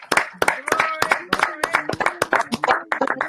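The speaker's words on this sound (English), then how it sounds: "Can you clap yes for Jesus?" Church congregation clapping in rhythm during a bilingual English-French worship service, loud close hand claps in a quick steady beat with voices calling out over them.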